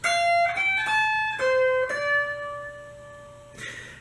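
Clean guitar melody from a song, played higher up the neck, a few sustained plucked notes ringing out one after another, close and moderately loud with no voices.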